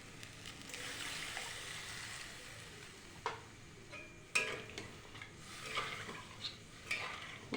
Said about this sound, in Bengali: আর কিছুটা জল আমি দিয়ে দেব।